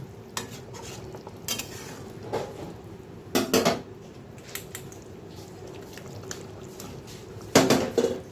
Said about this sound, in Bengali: ঢাকনাটা উঠিয়ে দিই, বেগুনগুলো ছেড়ে দেব